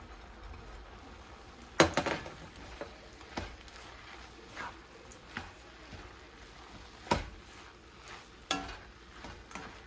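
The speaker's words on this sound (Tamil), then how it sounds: "பரோட்டா போட்டு நல்லா மிக்ஸ் பண்ணிடுங்க" Kothu parotta is tossed and mixed with masala in a pan, with scattered soft scrapes and sharp clanks of a spatula against metal over a faint background sizzle.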